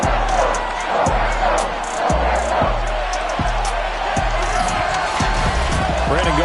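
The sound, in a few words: stadium crowd cheering in EA Sports NFL video game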